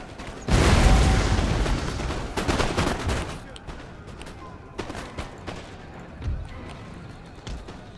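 A musket volley in the strategy game Empire: Total War during an assault on Hyderabad, a loud massed blast with crackling reports, then scattered fainter shots and distant pops as battle noise continues.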